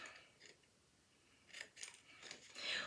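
Scissors snip through a paper gift card holder, a few quick, faint cuts clustered near the end after a quiet stretch.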